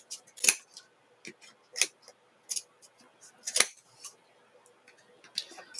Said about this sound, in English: it helps to have a really good sharp pair of scissors